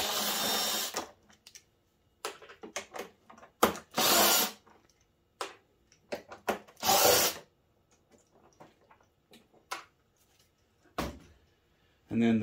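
Power tool with a 10mm socket backing out three 6mm fasteners from the airbox of an Enticer snowmobile, heard as several short bursts of whirring between pauses, with light handling clatter and some talking.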